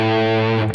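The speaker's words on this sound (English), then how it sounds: "Let me select a little more moderate distortion." Electric guitar through a moderate distortion setting sounds one sustained, harmonically rich chord or note at steady loudness, cut off abruptly just before the end, with no voices present.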